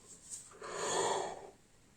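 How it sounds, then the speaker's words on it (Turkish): A single tired person gives one soft, breathy yawn that swells and fades over about a second, close and quiet in a calm indoor setting. "Esnemek aklına gelince bile esniyorsun."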